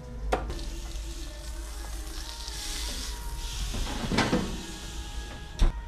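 Steak sizzles steadily in a hot pan after being flipped, a continuous frying hiss broken by a few knocks and clanks of cookware, no speech.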